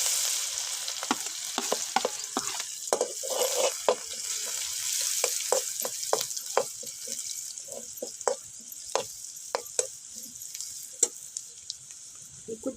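Garlic and cumin seeds sizzle in a pan over a wood-fired stove while pea chutney is made, giving a steady frying hiss broken by many sharp crackles and pops. No one speaks.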